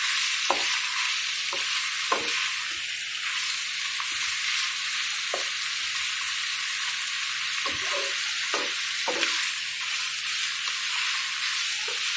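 Meat browning in a pan for an Ilocano dish, a continuous loud sizzle broken by repeated scraping and stirring strokes at irregular intervals, with no talking.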